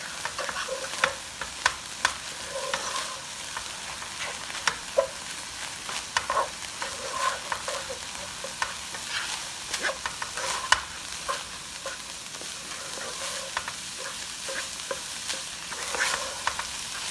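Ginger, garlic and masala spices fry steadily in a pan, a continuous close sizzle with scattered pops and crackles throughout.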